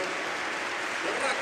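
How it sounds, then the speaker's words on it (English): Stadium crowd at a Barça vs Mallorca football match applauding a substitution, a broad wash of clapping from the stands under a commentator's voice. "Generous applause for both."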